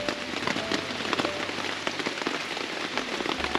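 Steady rain falls through forest trees onto a taut tent tarp overhead, dense and close, with occasional heavier drops tapping through the continuous hiss.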